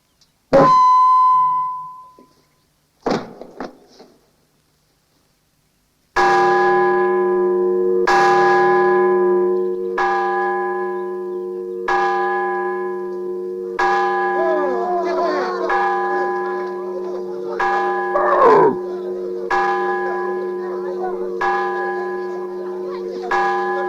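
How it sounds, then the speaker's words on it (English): A single church bell tolls repeatedly in a steady, resonant rhythm, loud and close, each stroke ringing out over a sustained hum after a brief opening tone and short bursts. "I'm afraid this bell is ringing for you, Colonel Huerta."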